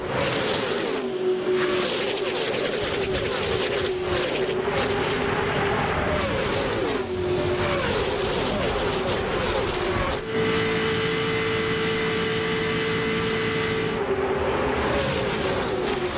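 NASCAR Winston Cup cars race at Daytona International Speedway, engines roaring loud and continuous as packs of cars scream past, with whining tones that rise and fall and a sustained high drone near the end.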